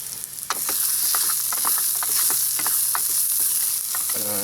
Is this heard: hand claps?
no